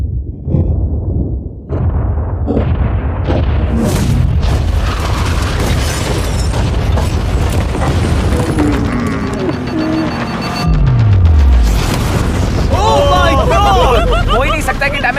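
A yacht being blown up with explosives, heavy booming blasts and rumbling debris under loud crowd chatter and shouting, with a descending whistle-like tone partway through.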